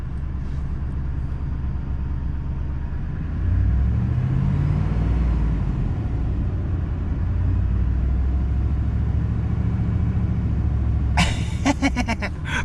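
A modified pickup truck engine running close by, low rumbling idle that swells into a deeper, louder drone midway and stays steady, with a brief clattering burst near the end.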